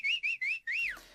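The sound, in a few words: whistle sample for stadium crowd sound design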